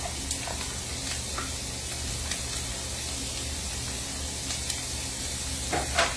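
Chopped onion frying in hot grease in a pan, a steady broad sizzle and hiss running throughout with small crackles and pops, fairly close and even in level.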